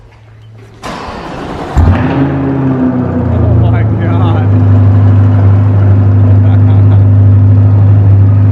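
A vehicle with a Fab Speed aftermarket exhaust cold starts, cranking and firing with a sharp bark, then settles into a loud, deep rumbling idle from the exhaust; a person briefly exclaims.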